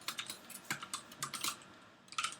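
Java code being typed on a computer keyboard, with quick, irregular clusters of crisp key clicks close by, one brief pause, then a final burst of keystrokes.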